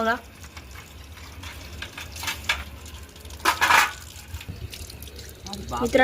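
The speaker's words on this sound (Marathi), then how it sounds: "चला आपण प्लेट धुवून घेऊ मस्तपैकी आणि मग जेवण करू." A plate being washed under a running tap at a party meal, with continuous water flow, dish clinks and splashing bursts, under light background chatter.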